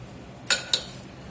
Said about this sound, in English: Let's stir this about a bit.